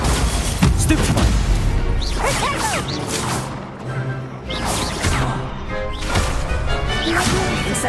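A Stupefy spell is cast in a Harry Potter video game, heard as loud whooshing swishes and crashing impacts over a busy, continuous bed of game sound effects.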